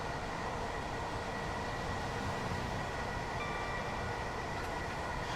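Simulated Class 66 freight train rumbles steadily on a South London line in Train Sim Classic, a dense continuous roar of wheels and engine with no talk.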